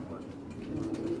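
Sialkoti high-flying pigeons on a Quetta rooftop give low, soft coos close by, a short rolling burst of cooing over faint background murmur.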